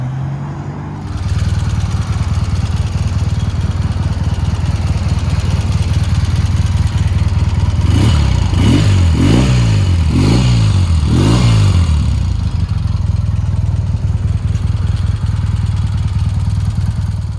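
A 1979 Triumph Bonneville engine runs loud and close at a steady idle, and near the middle it gets several quick throttle blips that rise and fall before it settles back to idling.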